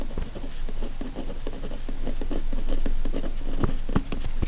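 Steady scratching of a pen or pencil writing math notes by hand on paper, continuous close scraping strokes with small taps throughout.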